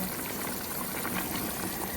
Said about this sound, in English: Now it has boiled, everything has infused in this water.